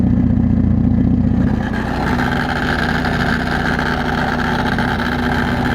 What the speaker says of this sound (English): the car is very loud and obnoxious